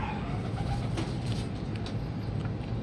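Breeder pigeons in a loft coo softly and steadily, their low murmuring continuous and close throughout.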